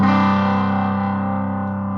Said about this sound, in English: You have the option to blend in your clean signal with the distortion.